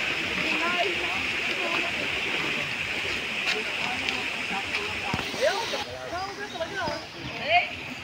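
Fast-flowing river water rushes steadily near a hanging bridge on the Lapad River in Sta. Cruz, a continuous broadband roar filling the whole span, with scattered faint voices and footsteps underneath.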